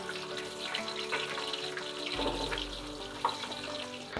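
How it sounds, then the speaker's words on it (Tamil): Sliced onions with green chillies hit hot oil in a pan for biryani, a soft, watery hiss that swells midway, close and moderate, with no talking. "ஆயில் ஊற்றிட்டு வெங்காயத்தை போட்டுடலாம்."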